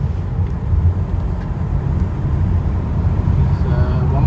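A 2022 Tesla Model 3 Performance on a warm-up lap with the battery at 40 percent, heard as a steady low rumble of road and cabin noise that holds even and loud throughout, with no clear talk.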